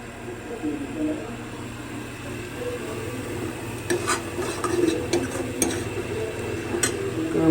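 Masoor dal tempering in a pan gives a quiet, close sizzle with stirring and a few sharp clicks of a utensil against the pan, over a faint background hum.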